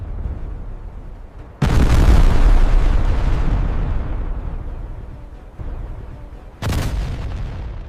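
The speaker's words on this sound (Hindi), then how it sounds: "जोरदार धमाके ने समंदर हिला दिया।" Loud, deep explosion in an animated documentary about the 1971 naval attack on Karachi port, a sudden heavy boom rolling into a long rumbling decay, followed by a second sharp blast, no talk.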